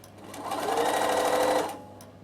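A sewing machine runs steadily on fabric in a workshop, stitching for about a second and a half with a smooth whirring buzz that ramps up and fades, close and fairly loud, with no talking.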